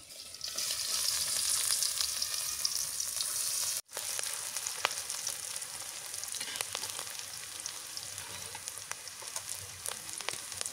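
Onions frying in oil in a pan, a loud, bright, continuous sizzle with a brief dropout, then steady crackling and popping with occasional stirring clicks, no voices.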